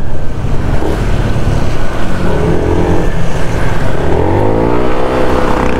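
A car fitted with Shifa tires corners on a wet road, a loud, close roar of tire hiss and engine with wind buffeting, continuous and without talking.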